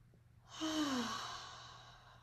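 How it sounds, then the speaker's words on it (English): A single long, audible exhale from deep breathing during a community gratitude circle, rising quickly and fading slowly, close and alone over faint background hum. "Find your rhythm and breathe."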